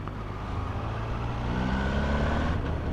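A motorcycle in fourth gear at about 23–24 mph picks up smoothly as the throttle opens. Its engine gives a steady, close, rising drone that swells slightly louder as it accelerates, with no voices.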